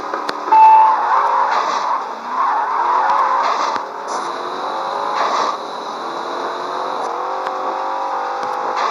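A drag race car in the video game Drag Battle Racing launches and revs hard, its engine pitch climbing through repeated gear shifts while the tires squeal. Loud and close, with no talking.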